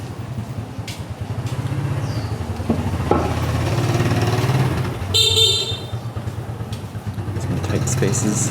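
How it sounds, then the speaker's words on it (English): A car horn honks briefly over a running motor engine on a street in Hanoi, Vietnam, with traffic noise throughout and a sharp burst of sound midway. "Definitely gotta honk before you go around the corner though."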